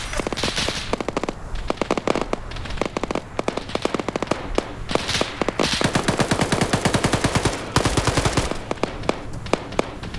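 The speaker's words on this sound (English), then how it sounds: "And he mag dumps just to be safe." An automatic weapon empties its whole magazine in a PvP video game match: long, loud, rapid bursts of gunfire, crackling almost without pause for about ten seconds.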